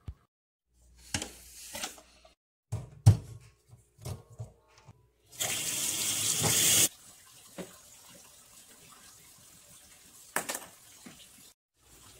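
Water runs from a tap to refill a fish tank during a 50% water change, a loud continuous gush for about a second and a half amid scattered clunks and splashes before and after.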